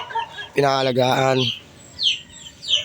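Kanokis gamecocks kept as fighting roosters let out a close, loud throaty call lasting about a second, with a few softer chirps afterward while someone talks nearby.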